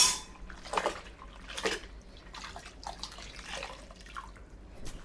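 Hot water runs from a kitchen tap in uneven, splashing bursts, as if hitting a sink or dishes, heard nearby with no talking.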